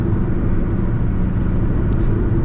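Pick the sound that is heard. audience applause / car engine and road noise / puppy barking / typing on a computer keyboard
car engine and road noise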